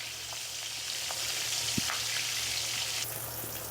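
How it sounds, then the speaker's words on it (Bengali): Pieces of bata fish fry in a pan with a steady, dense sizzle and crackle, occasional sharper pops rising briefly above the constant hiss. "মাছগুলো উল্টে পাল্টে ভেজে নিব।"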